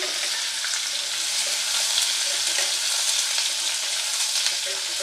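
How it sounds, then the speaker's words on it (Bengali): Pre-boiled jackfruit pieces, cut large and seasoned with salt and turmeric, fry lightly in a pan for a Bengali chickpea dal while being stirred. They make a steady, even sizzle with soft scraping, and no voice is heard. "বেশি ভাজবো না, হালকা ভাজবো, 2-3 মিনিট নেড়ে নিয়েছি, খুব বেশি ভাজবো না"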